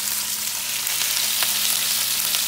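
Steaks sizzle steadily in hot ghee and oil in a steakhouse-style pan sear, a loud, continuous crackling fry close up with no talking.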